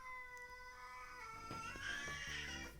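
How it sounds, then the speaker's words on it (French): A cat gives a drawn-out, wavering meow close by, loud and alone against a faint background, trailing off at the end. "Pourquoi qu'elle s'est mis à miauler de même?"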